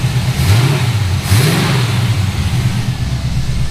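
The LS-swapped Chevrolet C1500 truck engine, just back together after a carburetor jet change, revs up twice in quick succession and then settles into a loud, steady idle, close by.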